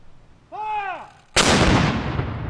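A ceremonial gun fires a single loud blast in the open air at a Remembrance Day commemoration, with a long rumbling echo. A short rising-and-falling tonal sound comes just before it.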